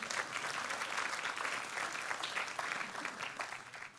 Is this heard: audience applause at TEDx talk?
yes